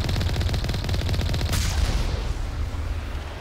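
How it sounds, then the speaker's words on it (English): Rapid automatic gunfire in Mass Effect Legendary Edition, fired from far across a mountain area on Peak 15. A dense, steady rattle of shots runs throughout, with a heavier boom breaking in partway. "Shooting at me from so far away."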